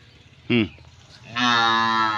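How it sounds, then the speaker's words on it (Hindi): A young water buffalo calf in a village in Mau district calls out twice, a short loud moo followed by a longer drawn-out bellow, close by and alone. "पाड़ी बोल रही है, चिल्ला रही है"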